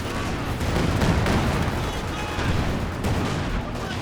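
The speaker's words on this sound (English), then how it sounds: "The Katyusha barrage goes down on the MG-34." A Katyusha rocket barrage pounds down in a video game match, a dense rumbling series of launches and impacts at steady high volume throughout, layered with a continuous battle din.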